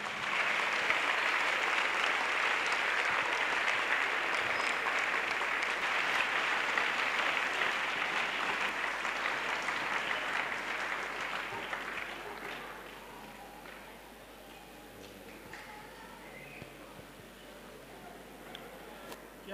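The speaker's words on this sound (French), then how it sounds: "A clap to Jesus." An audience at an evangelism crusade claps for Jesus, a dense, loud, sustained wash of applause that gradually thins and fades toward the end.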